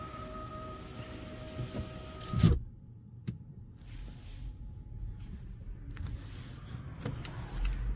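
Power windows of a Volvo C40 Recharge closing, a steady close motor whine with a thud as the glass seats after about two seconds, followed by quieter cabin hum and faint rustling.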